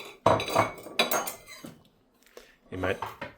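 A knife saws through a buttered bread sandwich at home, with a few short, close scraping strokes separated by brief pauses. No one talks over the cutting.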